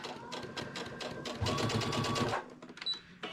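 A sewing machine bastes a sweater neckband, its needle running in a steady, close whirring burst that speeds up in the middle, then stops, with a few small clicks afterward.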